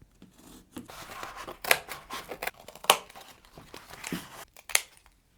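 Scissors snip through material while cutting small pieces for a crochet gift box ornament, a few crisp, close cuts spaced out over a quiet background with light rustling.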